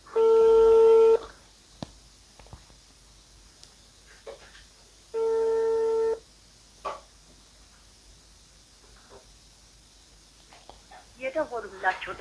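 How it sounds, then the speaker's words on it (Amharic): An unanswered phone call rings twice, each a loud electronic ring lasting about a second, separated by several seconds of near silence with faint handling noises. Louder, busier sounds come in at the very end. "ስልክ አይነሳም።"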